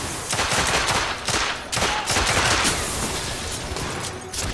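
Rapid machine gun bursts ring out in a Victorian-era third-person shooter game, loud and close, coming in several dense volleys with short gaps between them.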